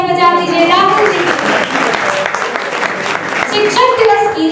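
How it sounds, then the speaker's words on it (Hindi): An audience claps at a Teachers' Day celebration, a dense wash of applause that fills the middle stretch, with a voice speaking before and after it. "एक बार जोरदार से तालियां बजा दीजिए राहुल जी"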